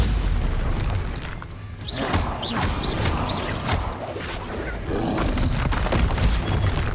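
Confringo blasting spells in the video game Hogwarts Legacy set off repeated booming explosions with crackling bursts and whooshes, loud and dense throughout the brief combat stretch.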